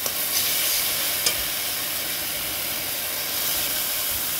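Coriander and chili powder frying in oil in a pan for a koi fish curry, stirred steadily, giving a dense, continuous sizzling hiss with a couple of faint utensil scrapes near the start.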